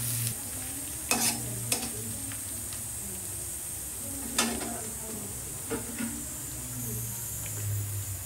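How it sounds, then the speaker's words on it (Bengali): Capsicum fries in a pan with a continuous hissing sizzle, punctuated by occasional scraping stirs of a utensil against the pan; no voices. "ক্যাপসিকামটা দিয়ে একটু ভেজে নেব"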